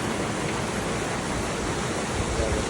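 A waterfall pours down beside a riverside camp, giving a steady, dense rush of falling water that holds at an even level throughout with no voices.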